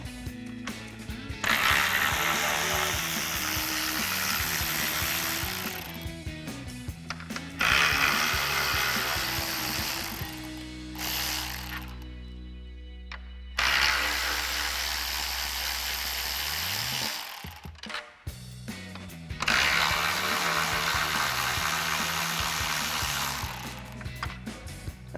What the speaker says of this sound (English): remove the 4 10mm bolts holding the upper portion of our grille in place using our 10mm socket on our ratchet